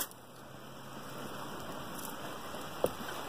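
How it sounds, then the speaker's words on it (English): Rain falls steadily outdoors, a continuous soft hiss of drops with one brief nearby knock near the end and no talking. "And yes, it's raining."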